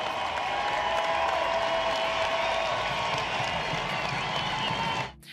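Baseball fans at a game applaud a player returning to the plate after his mother's death, a dense, sustained wash of clapping and crowd noise that holds steady before cutting off near the end.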